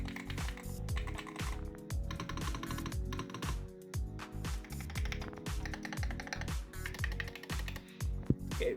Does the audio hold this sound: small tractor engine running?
no